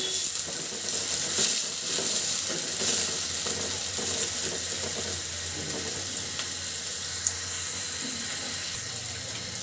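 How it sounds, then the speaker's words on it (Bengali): Chopped onion sizzles in a hot pan of oil in a home kitchen, a steady hiss of frying that carries on throughout at moderate loudness. "ভিতরে এখন দিয়ে দিচ্ছি আমি পেঁয়াজ কুচি, পেঁয়াজটা খুব সুন্দর করে ভাজি করে নিব"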